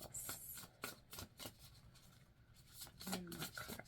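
Tarot cards are shuffled by hand, close and quiet, as a series of crisp riffling bursts in an uneven rhythm. A brief faint voice is heard near the end.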